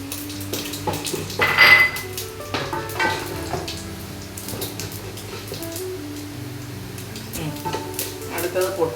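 Mustard seeds and urad dal frying in hot coconut oil for a Kerala-style lemon rice, a soft sizzle under loud clatter of a metal pan and spoon, with one sharp clang early on.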